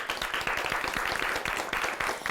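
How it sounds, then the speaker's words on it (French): Steady, fairly loud audience clapping for art program students, a continuous dense patter of many hands throughout with no pause. "Est-ce qu'on pourrait les applaudir?"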